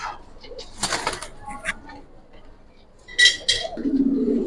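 Giribaz pigeons of the Palla line coo and call in soft intermittent bursts, with a louder cluster near the end over a quiet background hum, close by.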